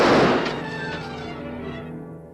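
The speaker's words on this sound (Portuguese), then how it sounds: "Um tiro alto." A loud single gunshot in an Old West film, a sharp burst at the start that decays into a long rolling tail under a lingering musical tone.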